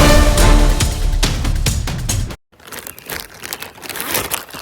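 Close, loud crinkling and crunching of a new plastic bag while bread is being made at a solo campsite in Michigan, dense rustling that cuts out abruptly and resumes more softly after a brief silence.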